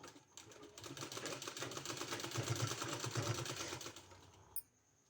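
A sewing machine stitches narrow pant fabric in a quick, even run of mechanical clatter for about four seconds. It ends with a sharp click, then quiet.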